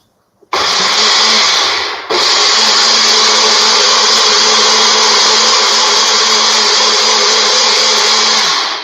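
A kitchen blender whirs loudly for a quick spin on stir-fry ingredients, starting abruptly, briefly dipping and restarting, then running steadily at close range with no talk over it.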